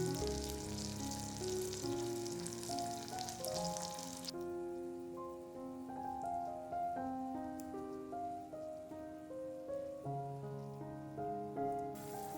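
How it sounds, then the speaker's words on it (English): Halved tomatoes fry in melted butter in a hot pan, a soft hiss that is strongest in the first few seconds and then fades, heard under louder background music. "Melt 25 grams of butter in a hot pan. Place the halved tomatoes in the pan."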